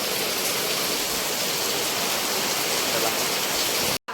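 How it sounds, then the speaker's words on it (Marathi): Heavy monsoon rain in the Konkan countryside, whipped by strong wind, pours down as a dense, loud, unbroken roar close by, cutting off abruptly at the very end. "धमाकेदार पाऊस आहे गॅलरीमध्ये पण आता पाणी भरलं आहे"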